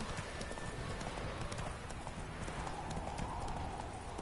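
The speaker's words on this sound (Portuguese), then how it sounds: "O cavalo, não é pra continuar andando não." Horse hooves clip-clop steadily in The Witcher 3, a fantasy action role-playing game, with a continuous rhythmic beat of hoofbeats close by under a busy layer of game ambience.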